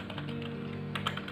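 Someone types a router DHCP exclude-address command on a computer keyboard, producing quick, light keystroke clicks in a short burst at close range. The typing is fairly quiet and there is no talking.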